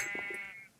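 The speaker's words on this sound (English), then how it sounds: "Bunch of sheep, which is perfect." Sheep in a Minecraft modded village bleat in a couple of short, nasal calls close by, the last trailing off quickly into quiet.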